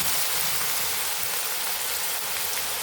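Shredded potato frying in very hot oil on high heat, a dense, even crackling sizzle that holds steady throughout at a moderate level.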